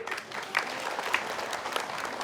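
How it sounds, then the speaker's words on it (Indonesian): A studio audience claps steadily for about two seconds, a dense, even patter of many hands with a few sharper individual claps, welcoming a guest onto a talk show. "tepuk tangan semua boleh?"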